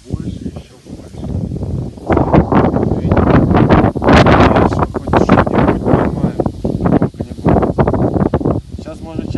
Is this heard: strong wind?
yes